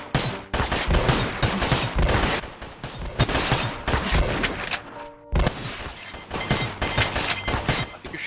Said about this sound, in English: I think you're shooting that guy's building, David.